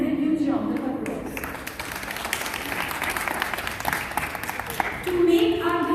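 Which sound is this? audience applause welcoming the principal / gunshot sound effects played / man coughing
audience applause welcoming the principal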